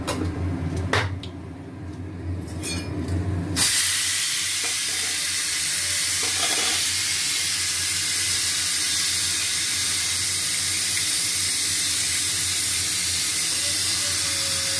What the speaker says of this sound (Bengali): ফোড়নটা ভালো করে ভাজা হোক।